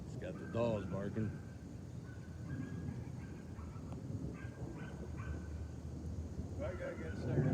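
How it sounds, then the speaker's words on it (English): Dogs barking outdoors as a storm rolls in, a few short barks and yips at moderate distance mixed with voices talking and steady wind noise. "It's got the dogs barking."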